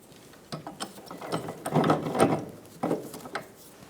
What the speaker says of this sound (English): We're going to use a trailing arm bushing installer tool and install it around our trailing arm.